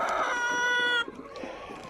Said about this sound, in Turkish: Bu ligorin horozumuz.